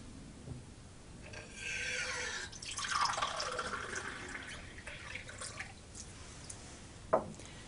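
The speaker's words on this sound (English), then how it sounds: "to fill this glass with tap water." Tap water running and dripping into a drinking glass, a quiet, uneven trickle with a brief louder splash near the end, no talking.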